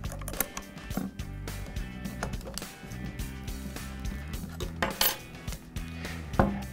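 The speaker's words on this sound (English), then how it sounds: "You can pull the clamp up and easily fit any branded blade." Blade being fitted into the clamp of a Ryobi 18V ONE+ cordless brushless reciprocating saw, R18RS7: close metallic clicks, taps and rattles of the clamp and blade, irregular and moderately loud.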